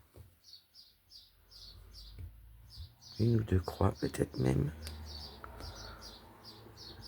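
Young sparrows in a nest right against a window give repeated high chirps, faint and steady throughout, while someone speaks French in the middle.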